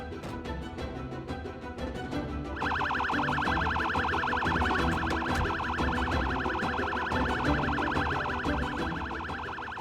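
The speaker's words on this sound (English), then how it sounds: "after switching on the siren" An ambulance siren in Project Zomboid switches on partway through and wails loud and steady with a rapid repeating yelp, over a low engine rumble.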